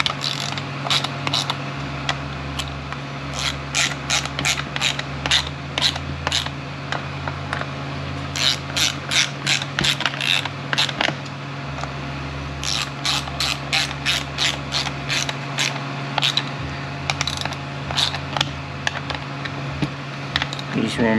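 A hand ratchet works bolts tight on a 6L45 automatic transmission, producing bursts of rapid, crisp clicks in repeated runs with short pauses, close by over a steady low hum.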